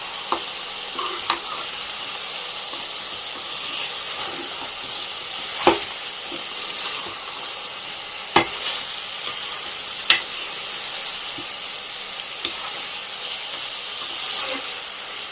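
Mutton curry being stirred in a pot for a Guntur-style dish, a soft continuous sizzle and simmer with a few sharp scrapes of the spoon against the pot, close and steady, with no talking.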